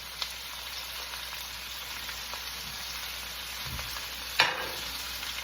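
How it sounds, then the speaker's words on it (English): Pork chops frying in a pan with previously cooked onions and mushrooms, a continuous even sizzle with a couple of sharp clatters from utensils, no talking. "I do have some like cooked up onions and mushrooms from some steak I cooked the other night, so I'm gonna dump those in there."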